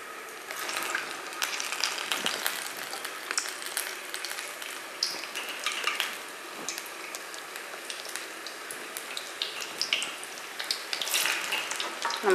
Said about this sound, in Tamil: இப்படி நம்ம வடை போட்டுக்கலாம்.